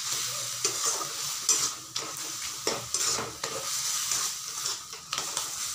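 Taro with shrimp fries in a pan while being stirred, a steady bright sizzle broken by repeated scraping strokes of the spoon, close and moderately loud, with no talking.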